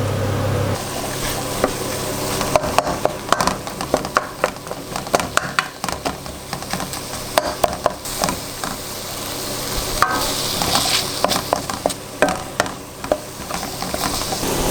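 Shallots hit a hot pan with smoked paprika and oregano, giving a continuous close sizzle broken by scattered clicks and scrapes of stirring, with no talking.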